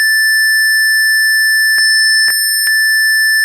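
A continuous, steady electronic tone with bright harmonics from an alarm clock circuit buzzer holds throughout, broken by a few brief clicks near the end.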